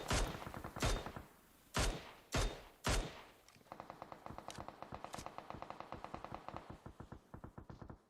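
Gunshots in a battle royale esports match: several loud, spaced single shots, then a rapid stream of quieter automatic fire with a steady, even rhythm.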